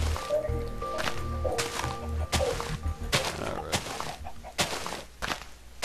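A Minecraft chicken clucks a few times in short bursts, mixed with game thumps and clicks, close and moderately loud, with no talk over it.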